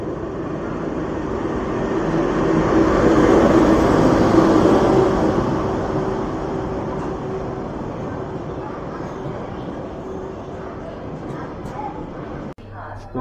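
Amrapali Express passenger train arriving at a station in darkness, a loud sustained rumble of rolling wagons that swells and slowly fades, with a dog barking and whimpering nearby.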